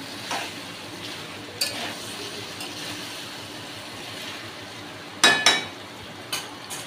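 Chopped tomato frying in a pan for a prawn curry with potato and papaya, a soft steady sizzle broken by a few sharp clinks of a stirring spoon against the pan.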